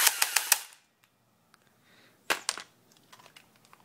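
An airsoft gun fires a rapid burst of sharp, crisp pops, then falls quiet before a second, shorter burst and a few faint clicks, heard close with no talking.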